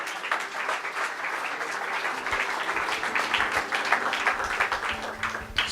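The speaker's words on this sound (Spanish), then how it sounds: "Denle un aplauso al Señor." Congregation in a church applauding together, a steady wash of clapping that holds at even strength for several seconds with faint voices mixed in.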